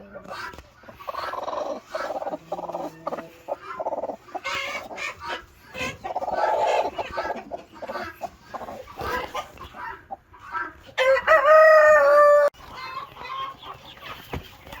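Young chickens about two months old in a farm grow-out coop, clucking and crowing steadily at close range, with one louder crow standing out, while a person talks throughout.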